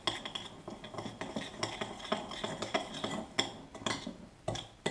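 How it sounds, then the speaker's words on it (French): A utensil scrapes and clinks against a bowl as butter and sugar are mixed for speculoos dough, a steady run of close, quick strokes with no voices. "Voilà, hop, on mélange."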